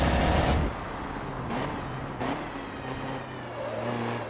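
A truck in the racing game Forza Motorsport 7 rumbles along with a steady low engine drone, rising and easing in a few swells as it drives and slows, with no voices over it.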